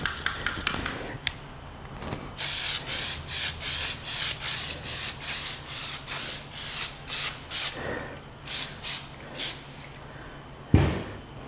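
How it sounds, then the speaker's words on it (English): Prep spray hissing from a trigger bottle onto a sanded panel of a turbo LS-swapped GMC Canyon, a steady run of short, evenly spaced spray bursts, close and moderately loud. "We've got some prep spray. We're just going to soak this whole upper half down."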